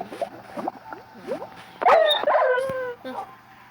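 A Minecraft dog whimpers and yips in short, rising cries as it dies in lava, followed by a louder, strained yelp that fades; the sounds are close and distressed.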